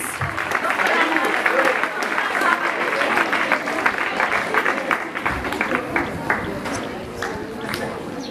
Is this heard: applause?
yes